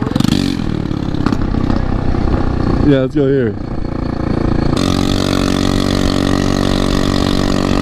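A loud, raw small scooter engine running without its exhaust idles and rattles steadily close by, with a person speaking briefly over it.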